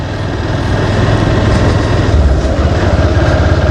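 A motorcycle carrying four riders on a rural road between Dhobaura and Ghoshgaon during the rainy season, its engine producing a continuous loud low drone with steady wind rumble throughout.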